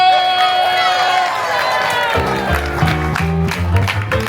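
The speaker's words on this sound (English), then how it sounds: "Let's have a royal round of applause for Princess Belle!" Theatre audience at a live stage show of Beauty and the Beast breaks into loud applause and cheering, building under a tonal musical swell before a driving rhythmic beat kicks in midway, with some voices mixed in.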